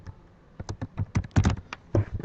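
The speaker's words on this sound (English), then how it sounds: "So now I can come up here and type in my group name," Typing a group name on a computer keyboard in an email compose window: a quick run of crisp, close key clicks in irregular bursts, with no talking.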